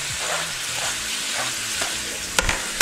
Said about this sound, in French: ça grillera pas trop les oignons, ça va juste les faire suer.